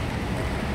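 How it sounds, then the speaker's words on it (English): Steady rain falls through the night air around someone holding an umbrella outdoors, a dense, even wash of patter that holds at constant loudness throughout, with no voices over it. "It's raining here."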